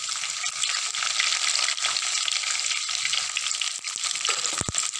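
Garlic, ten to twelve cloves, frying in a pan for a Kottayam-style fish curry: a steady bright hiss of sizzling oil with a few faint stirring clinks near the end, no voices.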